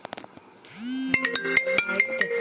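A mobile phone ringtone for an incoming call plays loud and close as a repeating melodic tune of bright tones, following a rising tone and a few scattered clicks.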